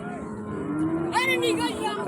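A cow lets out a long, low moo at a cattle market, followed by a louder, higher bellow, with faint crowd murmur in the background.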